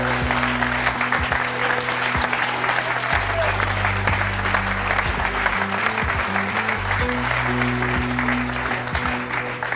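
A French television studio audience claps warmly to welcome a guest on a Valentine's Day surprise show, with loud, dense, continuous applause and a rhythmic musical beat running underneath.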